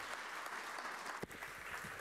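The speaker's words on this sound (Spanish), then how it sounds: "Vamos con un aplauso." Audience applause welcoming an economist onto the stage at a Somos Pymes business summit, a steady, dense wash of clapping from a large crowd that continues unbroken for the whole stretch.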